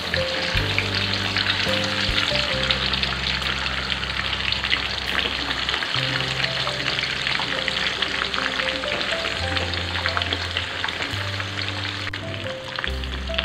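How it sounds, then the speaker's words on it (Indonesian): Chicken pieces for ayam balado fry in hot oil with a loud, steady, crackling sizzle throughout, close up, with tonal background music underneath and no speech. "Kita goreng ayamnya sampai warnanya kuning keemasan."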